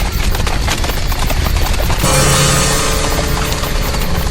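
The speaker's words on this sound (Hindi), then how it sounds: "वो पास के ही गांव के घोड़े हैं।" Many horses from a nearby village clip-clop together in a thick, continuous clatter of hooves with a low rumble beneath. The sound grows denser and louder halfway through and stays steady, with no voices.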